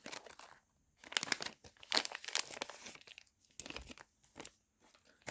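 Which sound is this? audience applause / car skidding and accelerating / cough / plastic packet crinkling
plastic packet crinkling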